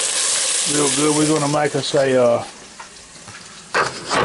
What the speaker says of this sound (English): I'm just getting this stuff sauteed up